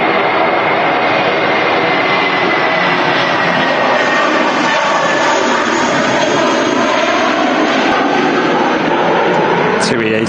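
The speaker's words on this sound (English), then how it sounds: "A320." An Airbus A320 airliner at Manchester Airport, a loud continuous jet engine roar that stays strong and steady, close and overwhelming throughout.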